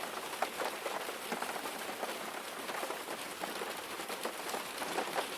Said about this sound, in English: the sound of the rain just eases and soothes and relaxes you